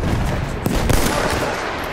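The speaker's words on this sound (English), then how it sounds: "Wait for the enemy artillery barrage to stop firing." Battlefield 1 artillery barrage on a World War One battlefield, a dense, continuous roar of distant firing and blasts with a couple of sharper impacts standing out, steady and loud throughout.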